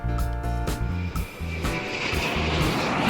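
Electric hair clippers buzz steadily during a long-to-short mullet haircut, a loud, continuous motor drone with a rough, roaring edge that rises and falls slightly as the blades move through the hair.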